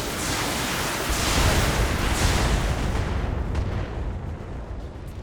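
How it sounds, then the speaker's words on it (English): Heavy weapons fire from a BattleTech mech blasting a turret in a video game, a loud sustained roar of overlapping booms and rumbling bursts that swell and then taper off. "Firing on target."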